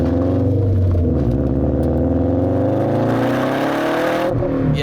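A 2017 Subaru WRX STI's turbocharged engine pulls hard, its steady drone climbing in pitch as the revs build over several seconds, close and loud, with a brief drop and fresh surge near the end.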